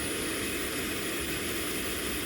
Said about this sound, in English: So it's cycling cooling air through the engine to help cool it